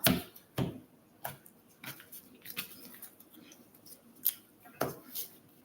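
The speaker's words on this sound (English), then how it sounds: "So we're going to shuffle. Shuffle, shuffle." A deck of Pokemon trading cards is shuffled at a championship match, with a series of crisp, close riffling snaps and clicks in irregular bursts over a quiet background.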